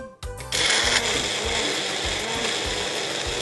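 A food processor chops ingredients drizzled with olive oil, starting with a short stutter before settling into a loud, steady whirring grind with rhythmic pulses from the blades.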